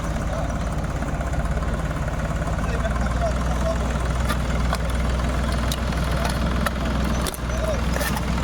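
A tractor engine runs steadily up close, crushing tape recorders and speaker boxes taken from tractors and autos; a loud continuous low rumble holds throughout with scattered clicks and cracks, and no voices.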